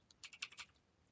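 Keystrokes on a computer keyboard, a quick burst of about eight close, crisp clicks in an uneven rhythm, then quiet room tone.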